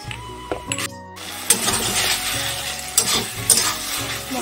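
Tomato chutney being stirred in a pan on the stove, with scraping spoon strokes over a steady sizzle and a few louder clanks, close and fairly loud with no talking.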